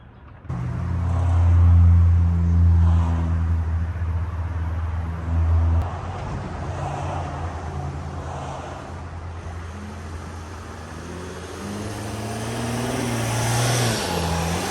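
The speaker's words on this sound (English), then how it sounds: "we're in the Sprinter and the car's running with daytime running lights" A Mercedes Sprinter van's engine runs at a steady, low hum heard from inside the cab, with a rev at the start and a gentle rise again near the end.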